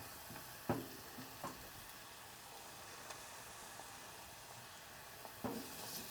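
Garlic frying in a pan while cooking Ethiopian telba wot, a faint steady sizzle broken by a few sharp stirring scrapes, no voices.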